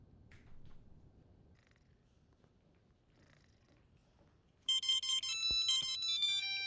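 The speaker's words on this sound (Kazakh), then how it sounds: "Не болды ма телефонға сонша шырылдап өзі?" A mobile phone ringtone suddenly starts up loud and near, with bright repeating electronic beeps, after a quiet stretch of faint low background noise in an animated household morning scene.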